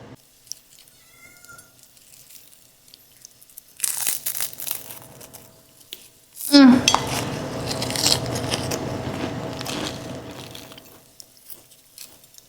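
A rice cake is bitten, giving a sharp, close crunch followed by several seconds of crisp crackling and chewing, after quieter rustles and a cat's meow earlier.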